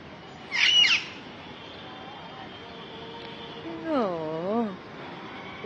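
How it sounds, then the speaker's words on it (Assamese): Large parrots give a loud harsh squawk early, then a longer run of stacked, wavering calls later, carried over steady background hiss outdoors at dusk. "ইমান মৰম লাগিছে বহুত ডাঙৰ ডাঙৰ হয় ভাটৌকেইটা"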